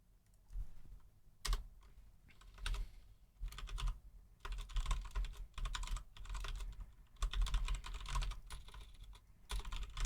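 Rapid bursts of typing on a computer keyboard during a live web-coding stream, with clustered clacks separated by short pauses and no talking.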